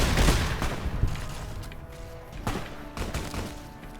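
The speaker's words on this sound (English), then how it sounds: "who's shooting at me?" Rapid gunfire aimed at the player in Fallout New Vegas, a dense volley of loud close shots at the start followed by scattered bursts and thuds over a few seconds, no talk.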